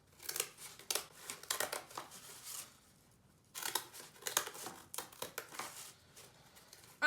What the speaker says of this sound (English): I'm using some pretty hefty scissors, and with cardboard you're probably going to need some hefty scissors